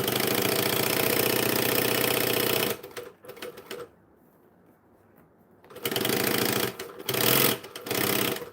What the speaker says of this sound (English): As fast as I sew, I do keep my fingers well and truly clear of the needle.